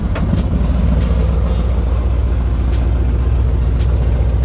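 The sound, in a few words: 1983 C10 truck engine starting and running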